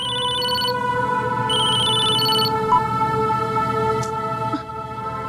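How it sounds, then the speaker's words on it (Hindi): A telephone rings steadily in repeated electronic bursts, loud and close, over a constant background hum. "घंटी बज रही है।"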